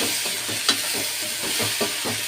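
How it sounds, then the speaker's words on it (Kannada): Chana frying in oil for a Belgaum-style maize upma, a steady crackling sizzle with soft stirring scrapes and a couple of brief sharper pops, close and continuous with no talking. "ಚನಾಗ್ ಫ್ರೈ ಆತಾ ಇದೆ"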